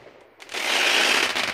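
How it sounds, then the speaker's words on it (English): Fireworks set off by children at an RV site, a near, loud burst of rapid crackling that swells after a short quiet and holds for about a second. "The kids up there doing the fireworks."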